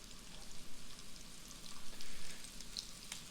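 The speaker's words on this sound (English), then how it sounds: "So the potatoes have been cooking for a few minutes now." Potatoes fry in a pan, giving a steady, soft sizzle with faint crackles throughout and no talk.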